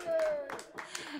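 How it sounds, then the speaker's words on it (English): A few claps from the audience at a live streamed jazz show, sparse and uneven, mixed with whoops and a voice speaking over them. "We're going to clap here at this end."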